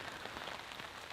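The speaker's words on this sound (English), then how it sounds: "Light rain is going to fall" Light rain falling steadily on a campsite, a dense, even patter of drops with no pauses, close and soft, with no voices.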